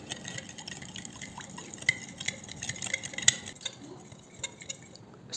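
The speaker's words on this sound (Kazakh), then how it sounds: "Жақсылап араластырамыз ерігенше." A spoon stirs yeast, salt, sugar and olive oil into warm water for pizza dough, with light scraping and scattered metallic clinks against the bowl that are steady and close, and no talk.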